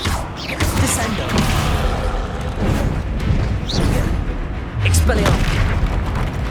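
Descendo spell impacts in Hogwarts Legacy, heavy booming slams over a loud, busy combat backdrop, several thuds spread across the stretch with a voice talking throughout.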